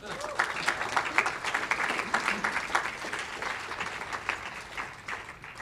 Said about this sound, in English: If we could get a hand clap for them.